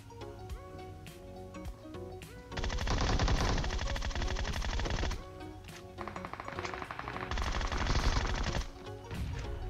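Bursts of automatic gunfire from a PUBG Mobile match crackle loudly in two long sustained volleys, with scattered single shots and game music or effects between them.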